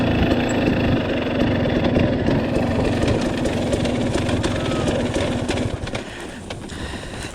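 A dirt bike engine runs steadily in second gear on a steep hill climb over logs, loud and close with a continuous rough idle-like rumble that drops slightly in the last seconds.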